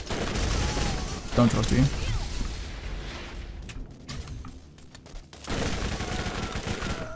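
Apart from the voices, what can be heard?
SMG gunfire in the video game Borderlands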